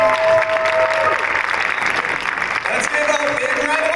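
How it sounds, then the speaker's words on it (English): Crowd applause at the 2023 US Barista Championship in Portland, Oregon, loud clapping and cheering that fills the room, with an announcer's voice talking over it. "Let's give a big round of applause for Maya"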